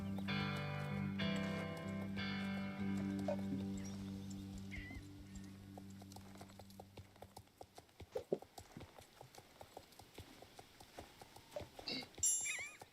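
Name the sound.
horse hooves while lunging a horse, from a video game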